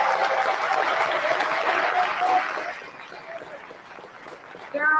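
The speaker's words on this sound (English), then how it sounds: "Let's give them a huge round of applause." Audience applause at a Calgary political rally on Alberta independence, a dense wash of clapping for about two and a half seconds that thins out and fades toward the end of the clip.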